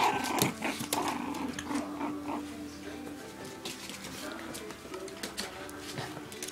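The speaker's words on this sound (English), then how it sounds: "Don't growl at me." A five-and-a-half-week-old puppy growls in low, rough bursts among other scuffling puppy noises, close by and fairly steady throughout.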